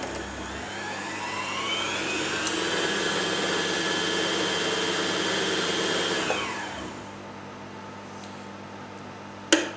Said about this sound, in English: engage the bobbin winder, disengage the needle,